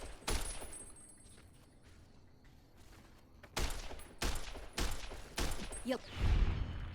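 Gunfire in Fallout: New Vegas as an enemy is shot, with loud repeated bursts of rapid shots, a lull and then several more volleys close together.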